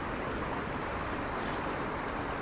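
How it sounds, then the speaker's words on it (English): Water flowing along a shore where the level runs high, a steady broadband rush and wash that holds constant throughout, close and alone with no voices. "Taking a moment to listen to the water."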